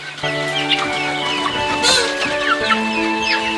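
Chickens in a farm coop cluck and call loudly and close by, with several birds overlapping in steady, busy chatter.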